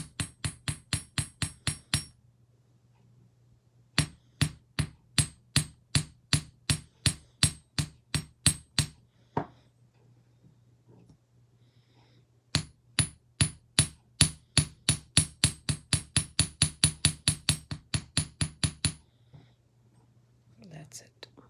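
A hammer strikes a metal spiral on a bench block in fast, sharp, ringing taps, delivered in three long bursts with short pauses between, close and loud.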